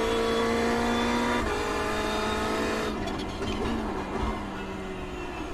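A race car in the iRacing sim at Bathurst, engine droning loudly and steadily with tyre noise, the pitch easing down midway as it slows.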